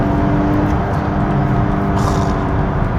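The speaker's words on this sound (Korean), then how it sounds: "우리가 뭐 80에서 120, 130, 140까지 가속한다고 하더라도 시원하게 가속은 하실 수 있습니다" A Hyundai Grandeur full-change sedan accelerating in sport mode, a steady continuous engine and road drone held at even loudness throughout, with no talk.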